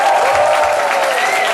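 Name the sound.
audience cheering and applause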